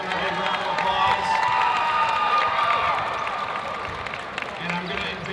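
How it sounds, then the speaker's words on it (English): A crowd at a dodgeball club championship claps and cheers for the referees and officials, a dense, steady wash of applause and shouts that fades slightly toward the end, with voices mixed in. "We give them a big round of applause."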